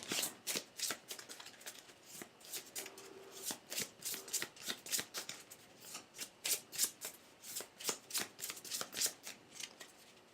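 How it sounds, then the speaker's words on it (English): A deck of cards for the 7th Continent board game is shuffled repeatedly at close range, with a quick steady run of crisp riffle bursts and no talk over it. "Alright, shuffle them up."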